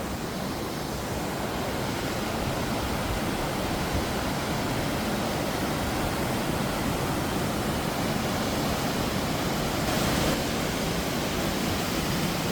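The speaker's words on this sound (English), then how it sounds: "AIRE Falls waterfalls, hidden away in the Cumbrian hills of the Lake District." Aira Falls, a waterfall in the Cumbrian hills above Ullswater in the Lake District, pours in autumn with a steady, full roar of rushing water that never lets up and has no speech over it.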